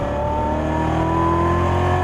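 2015 Chevrolet Corvette C7 Z06 accelerating hard on the Las Vegas Motor Speedway track, a loud sustained engine roar with steadily climbing harmonic tones, close and continuous with no talk.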